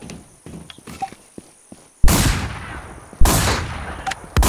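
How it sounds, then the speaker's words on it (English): A Mossberg shotgun firing in the survival shooter WarZ, with two loud, close blasts that each ring out and decay, preceded by quieter scattered clicks and taps. "Ooh, I hear someone with a Mossberg."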